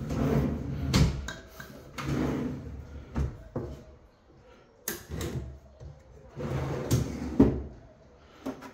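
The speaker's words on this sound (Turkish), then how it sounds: "Aynı şekilde ittiğimizde arkadaki mekanizma yine kendiliğinden kapatıyor" A kitchen cabinet's drawer-in-drawer closes on its own with a rear self-closing mechanism, giving several soft sliding rumbles and muted thumps at close range, with quiet pauses between them.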